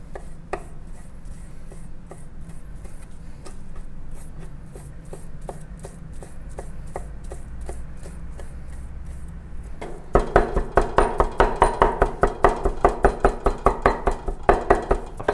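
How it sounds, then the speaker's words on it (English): Knife chopping raw lionfish meat on a cutting board into smaller pieces for dumplings: light scattered taps at first, then a fast, loud run of rhythmic chops near the end, with no talking. "I'm going to chop up all the way"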